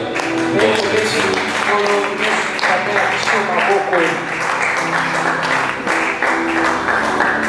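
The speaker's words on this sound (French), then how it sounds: "Reprenons nos places et acclamons fort le Seigneur." A church congregation at a Sunday service applauds loudly and continuously, a dense roar of clapping mixed with voices and cheering.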